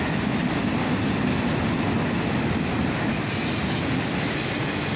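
A long freight train hauled by CSX SD40-2 and NS GP33 locomotives rumbles past close by, a loud, steady roar of rolling cars with squealing wheels rising midway, no voices.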